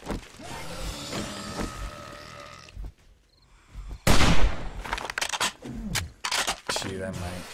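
Gunfire erupts during a zombie fight in 7 Days to Die, loud bursts of shots with a brief quiet gap in between, while players talk excitedly over the shooting.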